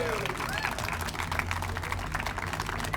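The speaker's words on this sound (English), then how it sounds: "Another round of applause for Denise." Continued applause from a rally crowd at the state capitol for speaker Denise, a soft, even patter of many hands at a distance, with voices mixed in.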